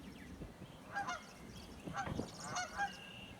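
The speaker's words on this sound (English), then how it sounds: "That's a goose called a Canada goose there." A Canada goose honks from a played recording, a few separate nasal honks spaced about a second apart, fairly faint against a quiet background.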